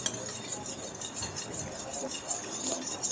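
A spoon clinks and scrapes against bowls while food colouring is stirred into papaya in warm syrup, producing a steady, soft rhythmic scraping with light metallic taps throughout.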